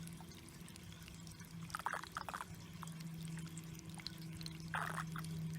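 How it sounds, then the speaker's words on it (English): Water gurgles and trickles as a siphon sucks it out of a container, with short bubbly bursts over a steady low hum, fairly quiet and without talk. "it's creating a siphon suction, so it makes a funny little noise as it sucks the water out of here."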